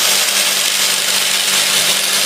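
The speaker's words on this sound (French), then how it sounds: "les grumes sont sélectionnées pour être découpées en tronçons de quelques mètres à l'aide de cette scie industrielle" An industrial saw cuts wooden logs into sections several metres long at a logging operation in Ghana, a loud, steady, unbroken whine with no pauses and no talk.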